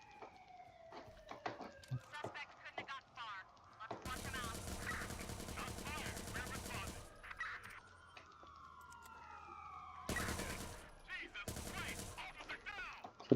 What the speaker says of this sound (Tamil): சுட்டு தள்ளும் எல்லாரும்.